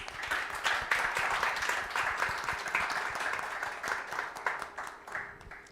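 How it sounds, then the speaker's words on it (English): Panel members at an Expo 2020 Dubai impact talk receive applause from the audience, a dense, even wash of clapping that stays fairly soft and continuous for several seconds, without speech. "Round of applause for the panel members"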